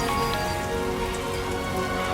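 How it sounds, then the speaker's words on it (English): Rain falls steadily in the video game Death Stranding 2, a dense, even hiss of drops on surfaces holding constant in level with no voices over it. "Rainy."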